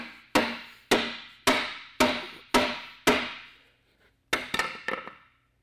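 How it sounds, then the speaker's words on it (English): Hammer blows knock off the waste from a wooden tenon cut for a boat's stern post: six evenly spaced sharp knocks, a pause, then a quick cluster of lighter taps, close and alone. "I'll just knock it off there with a hammer"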